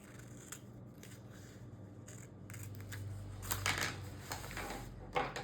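Scissors trimming a paper flower cutout for a Hobonichi Cousin planner page, giving soft, close snips that cluster in a couple of short bursts over quiet room tone, with no talking.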